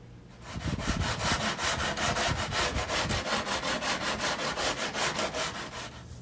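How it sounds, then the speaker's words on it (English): A wooden camp table for a cargo trailer is being sanded by hand in steady back-and-forth strokes, each pass a close, loud rasping scrape repeated about three times per second without pause. "So next I'm gonna sand it down"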